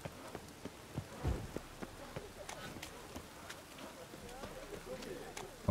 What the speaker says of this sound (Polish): Zanosi się na deszcz. No jak zanosi się, jak pada Geralt?